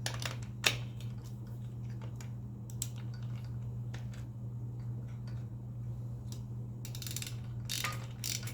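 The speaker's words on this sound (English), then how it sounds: "tighten up that nut," A ratchet tightening a nut on a Grubee Platinum Fire clutch, giving sharp clicks and a few louder clacks in an uneven rhythm over a steady low motor hum, with no talking.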